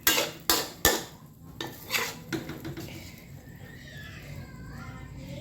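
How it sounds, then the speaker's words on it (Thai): Stir-fried basil pork with shrimp is scooped onto a plate, opening with several sharp metal clanks of a spatula on a pan, then softer scraping and clinks that fade into quiet kitchen background. "ตัดใส่จานเลยกะเพราหมูสับกับกุ้ง"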